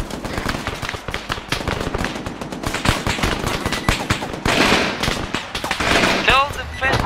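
Bursts of automatic and single-shot gunfire ring out in a military video game, dense, loud and close, crackling rapidly with brief lulls, with voices talking over the shooting.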